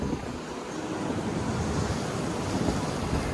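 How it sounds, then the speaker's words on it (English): Ocean surf at Mattu Beach in Udupi, a continuous loud roar of breaking waves mixed with wind buffeting the microphone, no voices present. "You can see the waves,"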